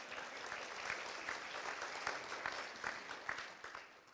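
An audience at a social justice benefit evening applauds steadily throughout, a dense, even patter of clapping that swells slightly in places.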